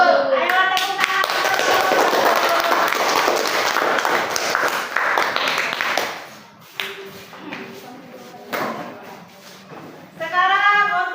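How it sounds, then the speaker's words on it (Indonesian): An audience at a school gathering claps together for about six seconds, a dense burst of many hands that thins to scattered claps before a second short round. "Ayo tepuk tangan."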